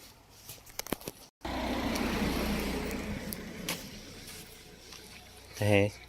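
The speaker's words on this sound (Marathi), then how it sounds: "गाड्या शिस्तीत थांबतात." Road traffic on a street with signals: a steady engine rumble and tyre noise as cars roll up and wait at a red light, with a brief horn-like tone near the end.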